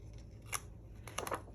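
Adhesive backing is peeled off a handmade interactive Christmas card, giving a short, faint crackling rip with a few quick papery ticks, close and quiet with no talking.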